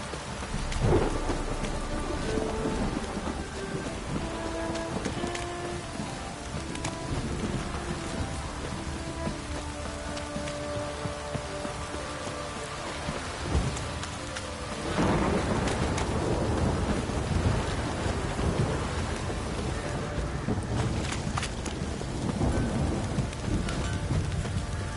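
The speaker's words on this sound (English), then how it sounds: "This downpour's a bastard, it is." Heavy rain pours steadily with rumbling thunder rolling underneath in The Witcher 3: Wild Hunt, swelling louder midway through; a continuous, close storm with no voices.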